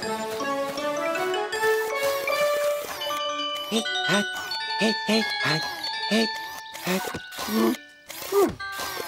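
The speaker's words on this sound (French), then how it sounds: "Avec Wiz, on remettrait vite ces cloches dans le bon ordre" Bright bell tones ring out in a steady melodic sequence, layered with sustained chimes and a busy musical backing.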